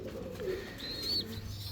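A young pair of Moorhead fancy pigeons gives faint, soft cooing murmurs, quiet and close, with no voices over them.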